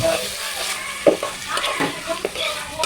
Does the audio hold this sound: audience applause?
no